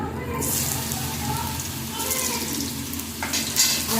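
Hog plums hit hot mustard oil in a wok with dried red chillies and five-spice seeds, setting off a loud, steady sizzle close by with a sharp burst at the start and a stir near the end.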